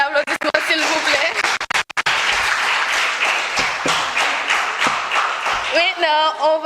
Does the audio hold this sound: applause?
yes